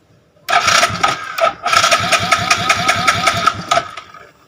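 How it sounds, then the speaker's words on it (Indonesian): An automatic scooter with a suspected dead ECU being cranked by its electric starter, a loud whirring starter motor with a rapid chugging pulse, briefly paused and then cranked again for several seconds without catching. "Kita coba starter ya lur."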